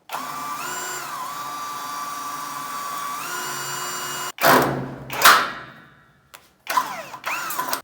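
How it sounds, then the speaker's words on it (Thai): A power drill drives screws into a bathroom door frame: a steady close whine holds for about four seconds, then breaks into two short louder bursts as the screw bites, a pause, and a final run of the motor. "เราก็เจาะยึดตรงนี้"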